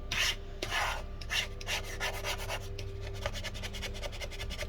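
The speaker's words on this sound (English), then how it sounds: "So I guess we're just going to have to keep scraping it." A tool scrapes stubborn adhesive residue inside a 2017 15-inch Retina MacBook Pro A1398 during a battery replacement, making steady rhythmic rasping strokes close up, with no talking.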